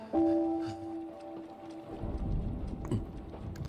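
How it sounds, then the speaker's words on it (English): Steady rain with a low rumble of thunder building in the second half, heard during a normal thunderstorm outside; a steady tone sounds at the start, then broadband rain and rumbling swell and hold. "today it should just be a normal thunderstorm"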